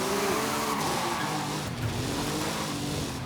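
Race car drifting on racing slicks in Forza Horizon 5, engine droning loudly under continuous tire skidding and squeal, close and sustained.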